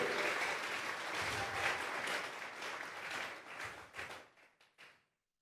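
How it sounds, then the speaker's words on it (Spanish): Church congregation clapping in praise during a Spanish-language Bible teaching service, sustained hearty applause that breaks into a few scattered final claps before stopping. "Fuerte esas palmas al Dios de la gloria."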